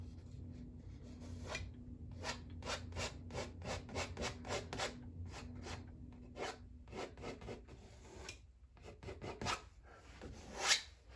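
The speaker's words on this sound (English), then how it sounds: "Scrape off the excess." Excess paint is scraped off a painting of snowy mountains, a quiet close series of rhythmic rasping strokes that repeat steadily and then turn more irregular, with no talk.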